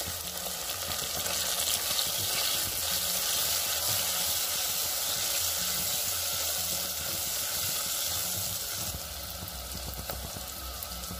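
Chopped onion and mint fry in a pan for a vegetable biryani, a loud, continuous sizzle and hiss with faint stirring, easing slightly near the end, with no talking.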